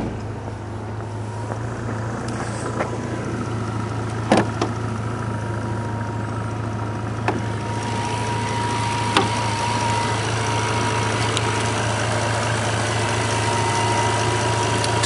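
A 2006 Bentley Continental GT with a 552 hp, 6-liter twin-turbo W12 idles steadily with a deep, even rumble, close and continuous, with a few faint clicks over it.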